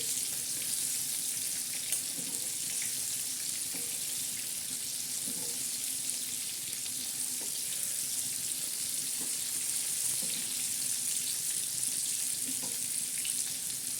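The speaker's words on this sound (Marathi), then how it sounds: "खरपूस अशा खमंगाच्या मस्तपैकी मच्छ्याच्या तळल्या जातात" Bangda mackerel frying in hot oil, a steady bright crackling sizzle throughout, close and constant with faint occasional clicks.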